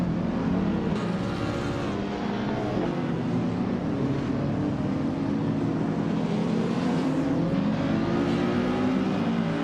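A 1969 Fiat Dino 2400 in a race gives a steady, loud engine drone that rises slowly in pitch over nearly ten seconds, like a car holding speed under continuous throttle.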